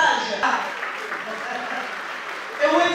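Audience applause for the cast at a red-carpet film premiere of Le Messager de la Lune: steady clapping throughout, with a voice talking over it and a swell of louder claps near the end.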